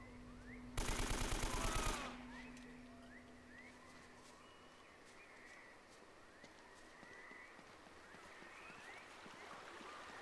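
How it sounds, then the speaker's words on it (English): A short, loud burst of rapid enemy gunfire in a video game rattles for about a second, then fades into quiet ambient background with faint chirps. "This enemy gunfire."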